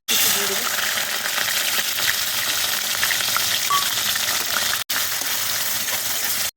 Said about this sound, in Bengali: তেল দিয়ে দেবো, তার গোটা গরম মশলা ফোড়ন দিলাম